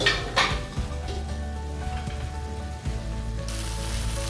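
Boiled eggs sizzle in masala in a pan over slow heat, a steady close crackle with a few metallic clinks near the start.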